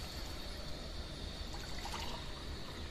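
Water from a glass, one and a half glasses in all, is poured into a paneer biryani pot, giving a steady soft trickling splash that is faint and continuous, with no voices.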